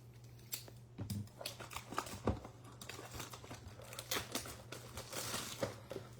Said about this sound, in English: Looking for 3 exclusive 1988 Topps Big Foil